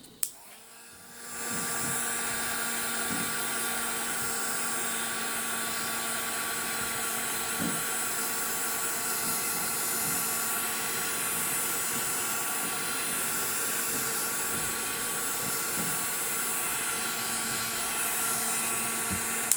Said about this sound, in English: you're going to go ahead and go over it with your heating tool again